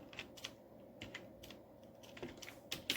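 Quick keystrokes on a computer keyboard while a MySQL query is typed, faint irregular clicks in short runs with light background hum.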